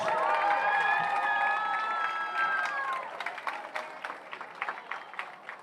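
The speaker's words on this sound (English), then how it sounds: "how about a great big round of applause for your Wayne Valley varsity cheerleaders?" Stadium crowd at a Wayne Valley high school football game applauding and cheering the varsity cheerleaders; a sustained wash of clapping with a whistle-like tone early, thinning into scattered claps after three seconds.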